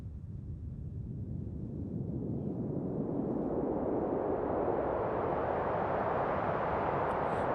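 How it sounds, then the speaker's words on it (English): A slow synthesized whooshing noise, made with a filter and slow control voltage, swells and builds steadily, a broad hiss rising and brightening like an approaching ocean wave, with no voices. "you get sort of an ocean wave sound effect"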